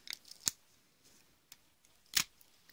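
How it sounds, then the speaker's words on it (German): Adhesive Tesafilm tape is handled and cut during a French manicure, giving a few sharp, crisp snaps and clicks spread out in quiet, close and fairly soft, with no talking. "Dann nehme ich meinen Tesafilm."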